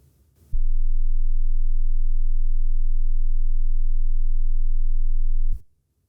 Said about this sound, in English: how about we generate a tone right now? How about something that is like a very low frequency